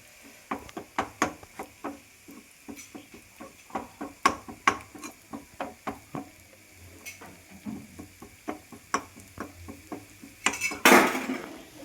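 Coriander powder being dry-roasted separately in a pan for pork varattu, with a spoon scraping and clinking steadily against the metal in close, rhythmic strokes and a brief sizzling burst near the end.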